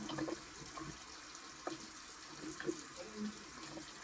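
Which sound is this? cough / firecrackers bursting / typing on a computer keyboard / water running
water running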